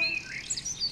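Small birds chirp a spring song in quick, high, bright bursts that come close together over a soft background.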